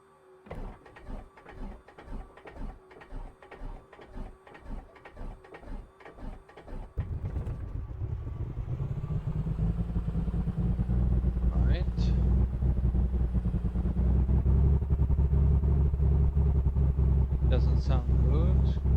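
A light aircraft engine starting in a flight simulator: a rhythmic series of starter cranking pulses, then the engine catches into a steady loud rumbling idle, with a voice talking over it.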